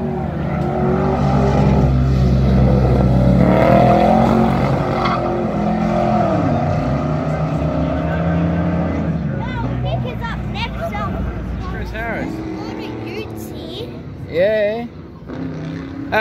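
A car pulling away from the line at the Pittsworth sprints, its engine rising and revving loudly, then falling back, with people talking nearby and some shouting.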